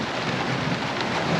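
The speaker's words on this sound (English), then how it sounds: "the rain didn't miss us" Heavy rain pours with a rumble of thunder beneath it, a dense, steady wash of sound with no voices, recorded outdoors in a storm while waiting at a motorsport event.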